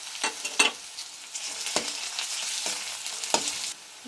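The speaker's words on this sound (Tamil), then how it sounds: "பார்த்திங்கன்னா வெங்காயம் நல்லா வதங்கிடுச்சு." Chopped onions with ginger garlic paste sautéing in a pan for paneer masala curry, a close, steady sizzle broken by sharp scraping stir strokes at irregular intervals.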